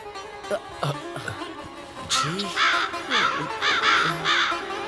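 Several crows caw in repeated harsh bursts, some near and loud, others farther off, overlapping against a faint background murmur.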